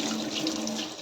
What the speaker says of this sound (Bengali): জলের বোতলগুলোকে একটু ভরে নিই,